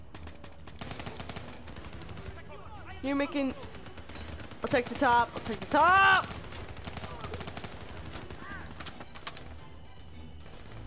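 Gunfire in the video game Call of Duty: Black Ops 3 crackles as a dense, continuous background of shots, with loud shouted talk breaking over it in bursts.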